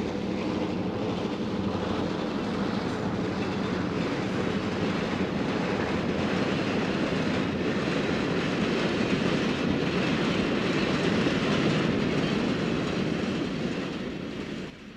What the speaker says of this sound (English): The last unit is F7 number 913, another survivor.